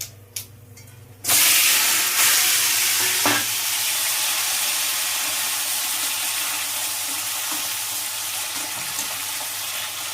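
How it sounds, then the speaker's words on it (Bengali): Five-spice and dried red chilli hit hot oil with a sudden loud sizzle that settles into a steady, dense crackling hiss, close and continuous with no talk. "পাঁচফোড়ন আর শুকনো লঙ্কা ফোড়ন দিলাম।"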